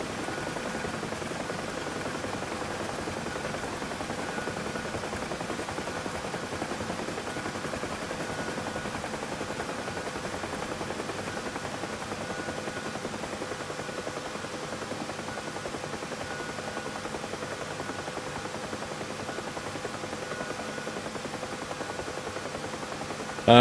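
A helicopter rotor in the DCS flight simulator game, running slightly overspeed with rotor shake, makes a steady, loud, unbroken whirring drone with no voices for the whole stretch.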